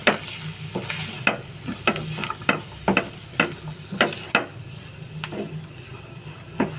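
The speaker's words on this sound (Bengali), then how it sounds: "এবারে দেখো এটা মেখে নেবো আমি।" Potato filling is mixed with a spoon after half a cup of coriander leaves goes in, giving a series of distinct scraping and tapping strokes in an irregular rhythm, close and fairly quiet, with no talking.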